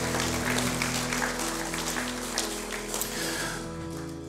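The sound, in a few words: church congregation applauding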